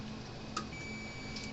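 A thin, steady electronic beep from a multimeter continuity test sounds for just under a second after a soft click on a switch in a Parmak Magnum 12 electric fence charger, faint against a quiet background hum.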